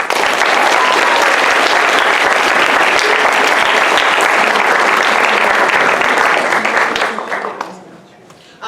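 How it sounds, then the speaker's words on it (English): A large audience at a linguistics student speaking competition applauds the speakers, dense sustained clapping loud and close for about seven seconds before fading out near the end. "I'd like to give one big round of applause to all of our speakers"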